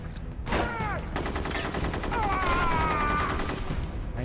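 Bursts of AK assault rifle gunfire in the video game Rogue Warrior, steady and fairly loud throughout, with sweeping tonal game sounds laid over the shots.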